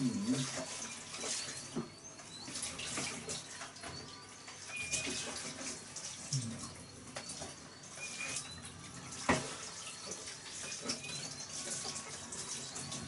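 Running water rinses winemaking equipment in a sink or tub, a steady broadband splashing and hissing that continues throughout with small clinks and fluctuations, fairly close.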